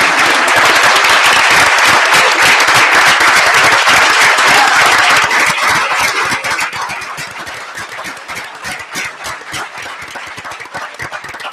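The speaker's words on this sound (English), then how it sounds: "let's hear a round of applause for the young men" A town board meeting audience gives a round of applause for young student athletes: loud, dense clapping from a crowd that eases off to scattered, lighter claps toward the end.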